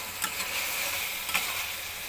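Prawns go into a frying spice paste, giving a moderate, continuous sizzle with a couple of brief clatters from stirring.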